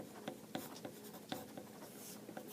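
A pen scratches across a flat piece of paper in short, quiet strokes with small taps between them, close and faint in an otherwise quiet room.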